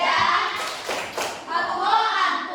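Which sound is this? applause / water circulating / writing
applause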